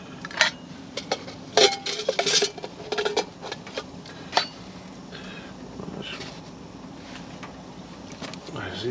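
Pots and utensils clink and clatter in bursts while a brew is made inside a lavvu hot tent on a frosty -5 day, with soft rustling between the knocks.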